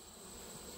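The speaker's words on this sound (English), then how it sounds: "anytime you have bees that want to go into a gap in your hive, these are robbers" Robber bees buzz around a gap in a commercial beekeeper's hive, a steady, faint insect drone that holds evenly throughout without any talk.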